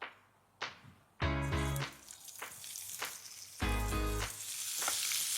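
Macadamia-and-saltbush-crusted kangaroo fillets hit a hot pan in two loud, bursting sizzles, each followed by a quieter crackle. Light knocks come between them.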